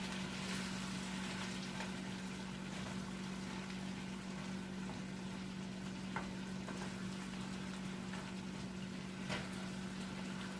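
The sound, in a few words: cabbage cooking in pan with water on medium heat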